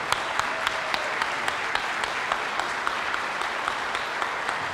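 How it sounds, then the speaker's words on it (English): Audience at a digital media showcase applauding the teams, a sustained, even roar of many clapping hands with a few sharper individual claps standing out, heard from within the crowd. "one last round of applause for the teams"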